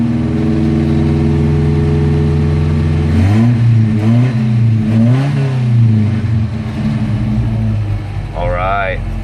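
A 1967 Volvo Amazon 122S engine runs close by, idling steadily before rising and falling through a few revs, with a voice talking over it.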